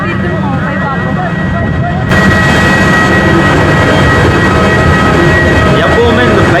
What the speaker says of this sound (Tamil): இதுதான் வந்து மார்னிங்கில் பகலில் போகிற ஃபஸ்ட்டு ஃப்ளைட்டு